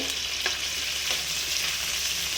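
Prawns fry in oil and butter with a steady, close hiss and sizzle, and light scrapes of stirring come through a few times as they are mixed.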